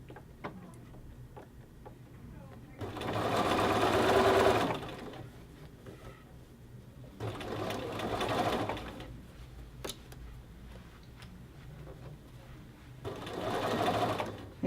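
A sewing machine stitches a men's shirt collar band in three short bursts of fast, even whirring, close and clear, with quiet pauses between the runs.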